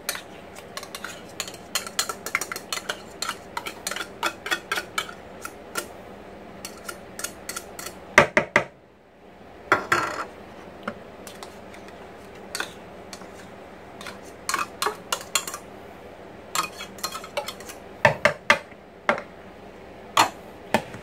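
A spoon clicks and taps in a bowl as cream cheese and canned crab are stirred together. The sharp knocks are close and come in irregular runs, with one short quiet gap midway.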